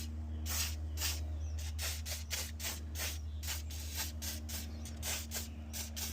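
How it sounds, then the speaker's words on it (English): Short bursts of WD-40 white lithium grease spray onto an alternator bracket during a Chevy Tahoe repair, each hiss close and repeated in quick irregular rhythm over a steady low engine-bay hum. "I'm going to spray this with a little WD-40 white lithium grease."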